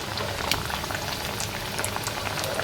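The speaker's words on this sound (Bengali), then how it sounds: "যে ডুবো তেলে আমি এগুলো ভেজে নিব সুন্দর করে" Hot oil for deep-frying potato pitha gives off a steady, dense bubbling fizz, even and continuous, close up, with no voices.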